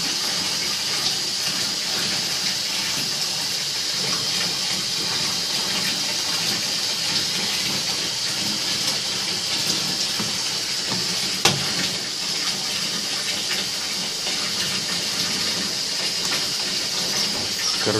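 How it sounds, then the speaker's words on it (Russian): Water runs steadily from a tap as it is drawn into a container, a continuous broadband rushing that holds at an even level for the whole span with one brief knock partway through. "Так, кстати, брат набирает себе воду."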